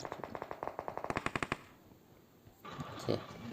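A video game gun fires a rapid automatic burst of about fifteen sharp shots in quick, even succession, then stops, leaving quieter background sound and a brief voice.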